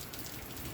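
Heavy, steady rain pours down on open farm fields in Chhara village, with no wind. It makes a dense, continuous hiss of close drops with no voices.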